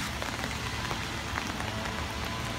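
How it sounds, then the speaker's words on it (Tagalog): Steady rain falls outdoors on a city street near an embassy district heading toward Orchard Road, a dense, continuous patter of drops with no one talking. "Umuulan pa rin."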